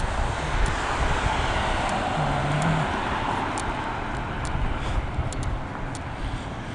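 A police car drives past on a town road, a steady broad rush of tyre and engine noise at moderate distance with wind buffeting, no one talking.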